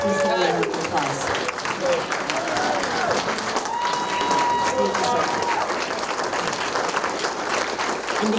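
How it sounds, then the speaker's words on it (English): An American Legion audience applauds a veteran, dense sustained clapping from a crowd that stays loud throughout, with a voice and a brief whistle-like tone rising above it. "please give him a round of applause."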